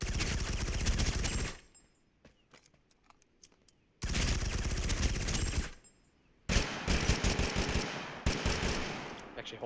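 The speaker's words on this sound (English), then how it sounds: "Okay, that's a full magazine of the Vector." Vector submachine gun firing full-auto in TABG (Totally Accurate Battlegrounds): a dense, loud burst emptying a full magazine, a pause with a few faint clicks, then a second long burst and a final stretch of rapid shots.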